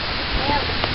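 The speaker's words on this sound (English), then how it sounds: "It just unleashed, raining." Heavy rain pours down during a big thunder and lightning storm in the Lehigh Valley, a dense, steady hiss of falling water heard close for a brief moment, with no voices over it.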